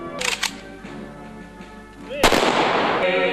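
Sharp bangs of an honor guard rifle volley salute burst out at a flower-laying ceremony, a couple of quick reports early and a louder crack later, echoing over a quiet outdoor background.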